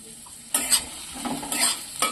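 Finely chopped onions fry in a little mustard oil for an egg bharta, with a quiet start, then bursts of loud sizzling and spatula scraping as they are stirred up close.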